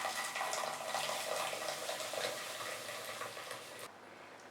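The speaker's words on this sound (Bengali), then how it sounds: "তারপর তৈরি হয়ে যাওয়া চাটা আমি ছাঁকনি দিয়ে ঢেলে দেব।" Hot smoky tandoori tea is poured through a strainer into a vessel, making a steady close splashing trickle that runs for several seconds and then stops abruptly, with no one speaking.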